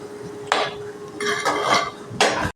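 A spoon stirs chicken curry masala in a metal cooking pot, with a few scraping clinks against the pot heard close up and no talking.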